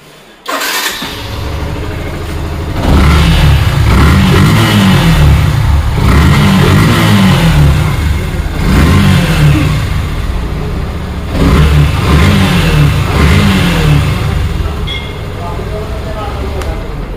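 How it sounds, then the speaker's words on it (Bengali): A used Yamaha FZ V2 (FZ-S version 2) motorcycle with about 8,000 km on it, its engine starting and then revving in repeated loud, rising bursts up close, with someone talking over the engine throughout. "যদি দেখায় আপনাদেরকে বাইকটির সাউন্ড কন্ডিশন"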